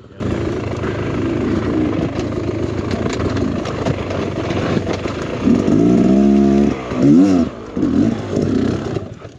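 An enduro dirt bike revs hard while climbing a rock wall, its engine droning loudly and close, then rising in several sharp, wavering throttle bursts toward the end.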